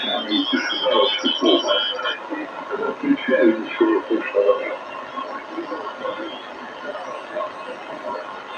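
A faint, muffled voice drifts through a hissy, noisy radio channel, fading and distorted, as if picked up from a distant weak broadcast.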